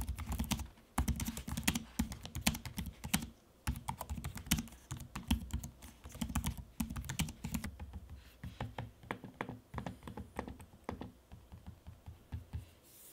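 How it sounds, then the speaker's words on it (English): Rapid typing on an Acer ConceptD 3 Ezel 2-in-1 laptop keyboard, close and crisp, with irregular bursts of key clicks and brief pauses, later mixed with lighter taps and clicks on the trackpad. "Okay, now I'll pause so that you can listen to me typing and using the trackpad."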